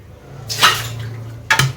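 Soaking water tipped out of a vessel in a home kitchen while preparing fish curry: two short splashy pours, the second briefly louder, over a low steady hum.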